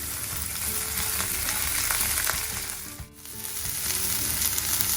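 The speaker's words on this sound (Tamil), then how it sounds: "வெங்காயத்துக்கு கூட நம்ம பச்சை மிளகாவும் போட்டு நல்லா ப்ரௌன் ஆகிற வரைக்கும் ஃப்ரை பண்ணணும்" Onion and green chili frying in a pan for baingan bharta, a dense, loud, steady sizzle close by with occasional light stirring and a brief dip near the end, no speech.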